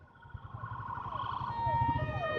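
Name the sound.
ambulance siren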